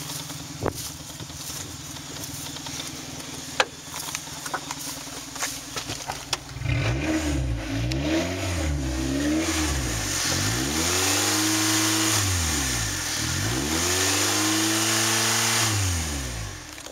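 A 2.2-litre Saturn Vue engine with an automatic transmission, noted as idling rough, ticks over quietly, then revs up repeatedly in rising and falling sweeps, loud and close, with no talk.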